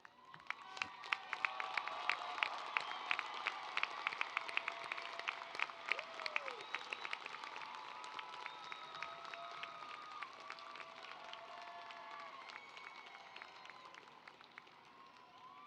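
A commencement audience at a university graduation applauds honors students, a broad wash of many hands clapping with scattered cheers, steady throughout and tapering slightly near the end, heard from some distance.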